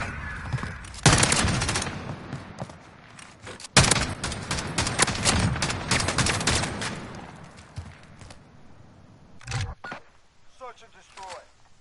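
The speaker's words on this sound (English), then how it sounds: "I was using slug shotgun" Rapid slug shotgun blasts and other gunfire ring out in a Modern Warfare video game match, dense bursts of sharp shots with a couple of louder booms, while a voice talks over the action.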